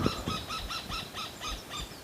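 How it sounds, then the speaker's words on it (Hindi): Outdoors, a bird calls in a rhythmic series of about seven short squawking notes at an even pace, moderately near, with no talk over it. "कितनी सुंदर आवाज़ एक पक्षी की।"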